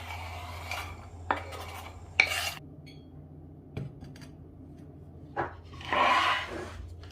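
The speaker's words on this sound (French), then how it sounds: "je vais hacher l'oignon avec le gousse d'ail très fine" Knife chops onion and garlic finely on a board in a kitchen, giving several sharp, separate cuts and scraping strokes at an uneven pace, close and moderately loud with no talk.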